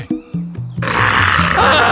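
A voice imitates a panther growl with a few short grunting bursts, then a long, loud, raspy roaring growl held close and strong to the end.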